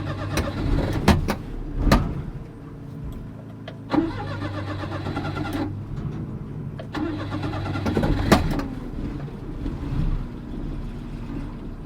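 An old car that sat unused for years cranks and catches, its engine firing up and running roughly with a steady low idle, broken by sharp clicks and revving surges, loud and close.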